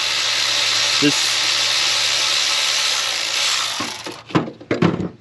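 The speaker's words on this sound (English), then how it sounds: "this Milwaukee ratchet has been one of my favorite investments I've had" A Milwaukee power ratchet loosens a PCV hose fitting on an LS engine, giving a steady, loud whirring buzz that runs for several seconds before stopping, followed by a few short clunks and handling knocks.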